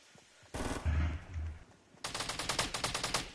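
Gunfire in Fortnite: a short burst of heavy shots with a deep thump, a brief pause, then a rapid string of about a dozen automatic rounds, close and sharp.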